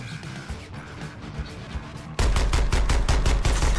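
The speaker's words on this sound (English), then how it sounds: "Is this shotgun full auto?" A full-auto shotgun fires in Suicide Squad: Kill the Justice League, starting with quieter in-game thuds, then suddenly erupting into a loud, rapid string of booming blasts, about ten shots, that runs to the end.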